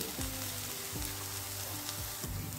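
Chhana bora, cottage cheese fritters, frying in hot oil give a steady close sizzle, broken by a few soft clacks from a utensil.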